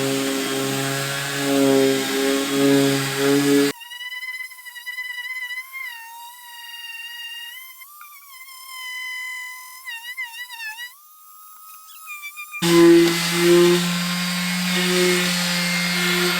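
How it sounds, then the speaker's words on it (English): Power sanding of a wooden swarm capture box for a Colorado Bee Vac gives a steady, high motor whine that rises and dips in pitch. The whine runs alone and close by for several seconds. "Alright, we'll give it a quick sand."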